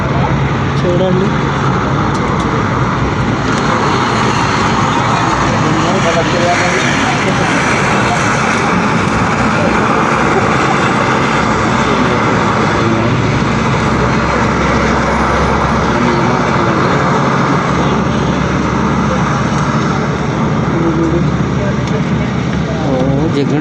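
Aircraft engines roar steadily at an airport, a loud, broad rumble that fills the scene without letup while people talk over it.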